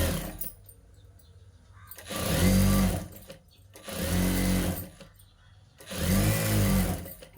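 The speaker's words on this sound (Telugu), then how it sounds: "ఈ విధంగా స్ట్రేట్గా ఒక కుట్ అనేది వేసుకోవాలి" A sewing machine stitching a saree blouse sleeve onto its lining runs in three loud, close bursts of rapid mechanical whirring, each about a second long, separated by quieter pauses with faint handling noise.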